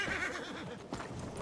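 A horse whinnies in a video game, a wavering, rising-and-falling neigh lasting about a second over steady background game noise.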